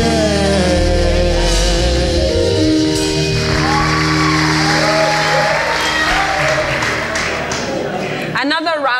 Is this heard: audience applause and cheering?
yes